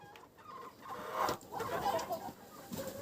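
Young chickens settling into a greenhouse to roost at sunset make faint, soft clucks and peeps that rise and fall in short bursts.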